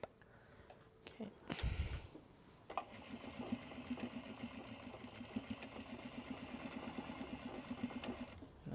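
Sewing machine back-stitching a Japanese fabric Kato bag. A soft thump comes first, then the machine runs in a steady, rapid stitching rhythm for several seconds, close and clear, with a faint low hum beneath.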